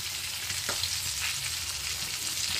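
Turmeric and salt are stirred into curry frying in oil, giving a steady close sizzle with a couple of brief spoon scrapes through it and no talking.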